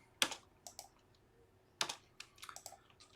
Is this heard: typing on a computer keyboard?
yes